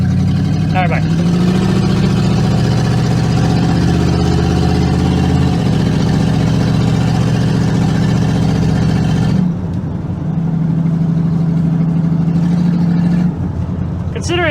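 A restored Ford Thunderbird drives along, its engine a steady low drone that holds through the whole cruise, with voices talking over it and a brief shift in tone midway.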